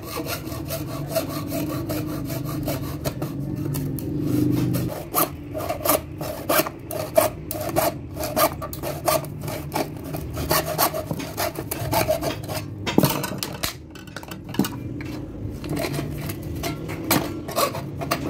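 Hand saw cutting through wood with a steady rhythmic rasp of back-and-forth strokes, close up, pausing briefly midway before continuing.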